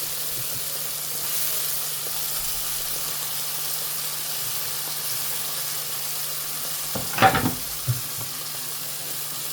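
Tomatoes and green onion frying in a pan, a soft steady sizzle and hiss with a brief burst of stirring clatter near the end.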